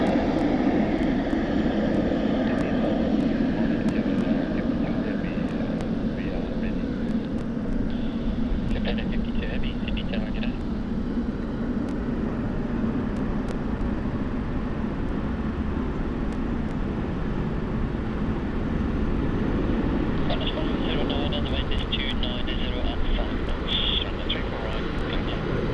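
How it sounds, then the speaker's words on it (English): A Japan Airlines airliner taxis out toward runway 34 left at Sydney Airport, its engines a steady, broad rumble and whine that holds evenly for the whole stretch at moderate distance. "We've also got Japan Airlines currently taxiing out to 34 left as well."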